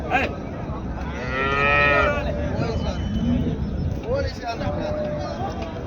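Holstein Friesian cattle moo at a busy cattle market, one long rising bellow up close followed by further calls, over a steady murmur of people talking in the background.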